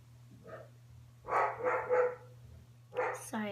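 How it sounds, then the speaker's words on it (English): A pet dog barks several times in a short cluster of loud yelps indoors, followed by one more bark and a whine, heard alone over a steady low hum. "my dog was barking because my mom came home"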